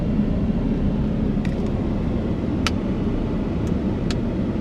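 A car rolls slowly along a campground loop road at a state park, heard as a low, steady engine and tire rumble close by. A few faint high clicks break through the rumble.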